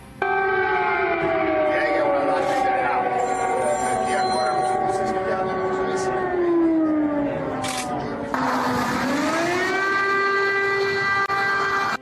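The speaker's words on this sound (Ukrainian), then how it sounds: "У Києві лунають перші сирени" Air raid sirens wail in Kyiv, rising and falling in long sweeping tones, loud and sustained over a low rumbling background.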